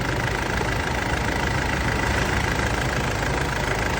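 A 2002 Mitsubishi Pajero Field Master engine runs at a steady, loud idle, a dense continuous rumble with no change in pitch, heard up close and alone.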